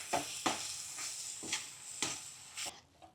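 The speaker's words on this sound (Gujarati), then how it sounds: "હવે આપણે આ બધી હલાવી લઈએ બધું મિક્સ કરી લઈએ" A spoon stirs capsicum stuffing masala with lemon in a pan, making about half a dozen soft, rhythmic scraping strokes over a faint, close sizzle.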